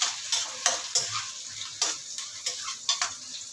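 Garlic, onion and tomato fry in a hot pan, a close, loud sizzle broken by regular spatula scrapes and clinks against the pan, about two per second.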